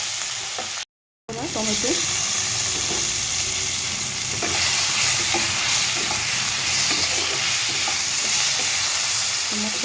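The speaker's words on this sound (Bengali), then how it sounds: "তো ভালোভাবে নাড়িয়ে চেড়ে নেব" Spices with turmeric powder sizzle steadily in a hot pan while being stirred, with scraping stir strokes over a continuous close fry after a brief cut near the start, and a faint voice.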